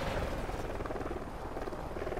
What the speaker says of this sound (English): I'm in my own chopper.